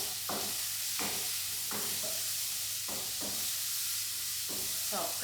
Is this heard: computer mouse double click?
no